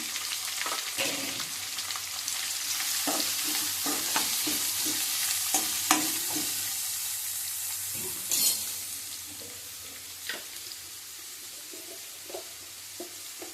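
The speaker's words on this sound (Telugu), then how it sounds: "ఉల్లిపాయ ముక్కలు, పచ్చిమిరపకాయ ముక్కలు వేసుకుందాం" Onion and green chilli pieces fry in hot oil with garlic and cumin, a steady close sizzle broken by repeated scraping stirs and sharp spoon knocks against the pan, for a ridge gourd and dried prawn curry.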